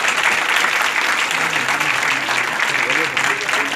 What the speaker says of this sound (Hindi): जोरदार तालियों से स्वागत होना चाहिए उनका